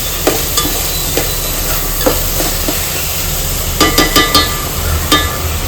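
Butter, a little oil, onion, garlic paste and tomato frying in a pan, a loud continuous sizzle with scattered spoon scrapes and a quick cluster of stirring clicks near the end, close up with no speech.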